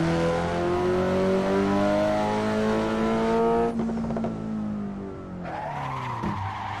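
Race car engine in a driving game played on a Logitech G923 wheel, drifting in second gear: a loud sustained high rev with whining harmonics, tire squeal, then a shift and rising rev again.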